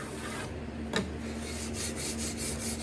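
A steel card scraper, held with a slight bend, rasps steadily across a wooden gate-leg tabletop along the grain, a continuous close scraping texture with brief strokes and a low hum beneath.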